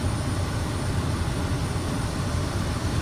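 Steady, loud drone of a Kodiak 100 turboprop engine in Microsoft Flight Simulator 2024, a continuous broadband roar with a thin high whine on top, holding level throughout with no talking.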